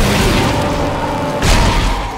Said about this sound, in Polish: Dobra, dwa strzały.